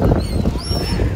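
Gulls or similar seabirds squawk and honk loudly near the boardwalk at Brighton Beach in New York, begging for food in a quick cluster of raucous calls over busy outdoor background noise.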